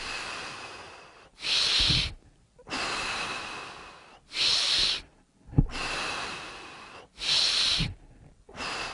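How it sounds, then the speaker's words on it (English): Slow, deep breathing during a guided breathing exercise, with three rounds of long, loud, airy inhales and exhales close to the microphone and brief quiet pauses between them. "Deepen your breath."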